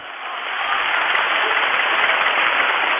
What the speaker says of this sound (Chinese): 掌声在哪里？